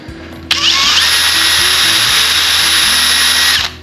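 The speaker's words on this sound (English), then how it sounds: "we'll just drill a little bitty hole here in the front" A power drill whirs steadily at high pitch for about three seconds, drilling a small hole in the front of a dive gem fishing lure, starting abruptly and cutting off at the end, close and loud.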